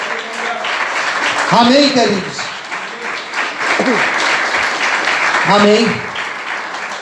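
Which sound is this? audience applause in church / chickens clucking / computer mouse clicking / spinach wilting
audience applause in church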